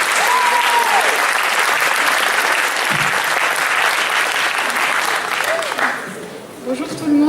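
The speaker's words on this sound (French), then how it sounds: "On peut les applaudir." A crowd at a Free Palestine rally applauding the Swiss delegation, loud sustained clapping from many people with a few whistles and cheers, fading toward the end as talking begins.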